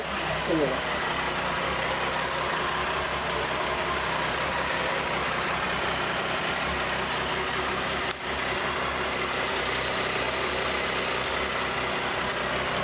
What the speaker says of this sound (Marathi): कोल्ड स्टार्टसाठी आपण तिला लावलेलं आहे आणि कोल्ड स्टार्ट होतो आहे